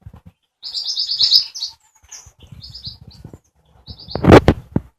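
Birds in an aviary chirp in quick, high bursts close by, and wings flap in a loud flurry near the end, with no voices.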